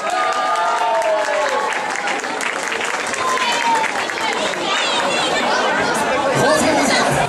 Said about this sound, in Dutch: Applaus hier!